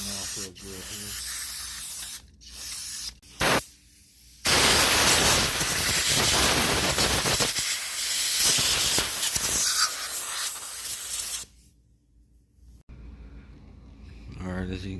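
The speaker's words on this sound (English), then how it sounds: "you want to use a carb cleaner. You just want to spray everything off real good here." Carb cleaner sprays in long, loud hissing bursts over a STIHL FS56RC string trimmer during fuel line and carburetor work, with short gaps early on and then a sustained blast of several seconds before fading to quieter hiss.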